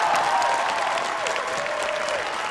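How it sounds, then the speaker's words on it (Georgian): Thunderous applause from a studio audience at a Georgian TV show, a dense, loud, steady wash of clapping that carries on without a break, with a faint tonal sound gliding underneath. "ქუხარე აპლოდისმენტებით სცენიდან"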